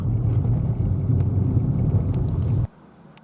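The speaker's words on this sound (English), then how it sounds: "Porsche Cayenne" A Porsche Cayenne rumbles by with a steady low engine drone at moderate distance, then cuts off abruptly into quiet with faint clicks.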